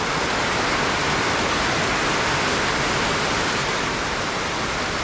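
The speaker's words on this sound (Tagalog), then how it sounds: "Ang lalaki ng patak ng ulan." Heavy afternoon rain with large drops pours down in a steady, dense hiss, loud and unbroken, with no voices over it.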